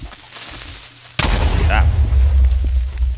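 A Minecraft creeper explodes nearby: a sudden loud boom cuts in after a quiet second and is followed by a rumbling tail, with a short vocal exclamation during it.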